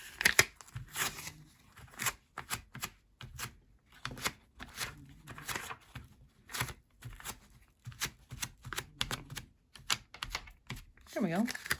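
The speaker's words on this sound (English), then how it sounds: "let's get our handy dandy tape" Tape pulled and peeled from a roll to lift fuzz off a fabric book page: close, crackly ripping and sticky tapping in quick irregular bursts throughout, with a voice talking softly over it.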